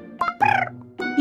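A cartoon blueberry bird from the Cookie Run game gives a few short chirping, gobble-like calls, bright and close, with a brief pause between bursts and no speech.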